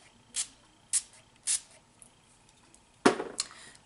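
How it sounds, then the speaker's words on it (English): Quick hissing bursts of matte finishing setting spray misted onto a face, three evenly spaced, then a pause and a louder spritz followed by a short one, close and crisp. "I'm gonna go ahead and spray my face"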